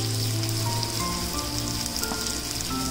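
Stuffed bitter gourds fry in oil in a covered pan, giving off a dense, steady crackling sizzle throughout with no talking.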